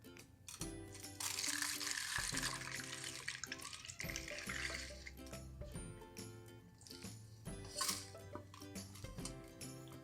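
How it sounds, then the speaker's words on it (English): Hot chili oil poured straight from the stove through a funnel and strainer into a pint mason jar, a steady close liquid splashing and trickling that swells and fades with a few faint clinks. "just grab your oil directly from the stove and just pour it in slowly."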